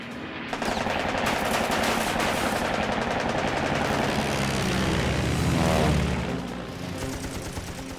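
Machine-gun burst from a fighter plane in a World War II dogfight over the Coral Sea, a loud, rapid rattle of fire layered with a droning propeller engine throughout.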